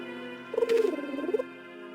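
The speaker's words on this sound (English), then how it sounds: "That's a big bird." A large bird calls in the Star Trek: The Next Generation – A Final Unity video game, a single warbling, cooing cry lasting under a second over a steady synthesized ambient hum.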